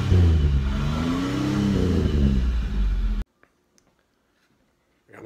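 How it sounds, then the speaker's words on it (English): A 1987 Pontiac Fiero engine revs loudly up close, its pitch rising and falling for about three seconds before cutting off abruptly into near silence. "While you're waiting for your primer to drive, you can sit there and rev your engine."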